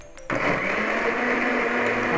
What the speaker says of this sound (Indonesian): Nah, lalu kita blender